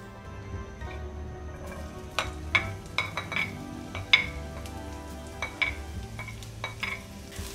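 Finely chopped onions frying in a tablespoon of oil over a medium-high flame, with a steady low sizzle and several sharp clinks and scrapes of a utensil stirring the pan, close and alone without talk.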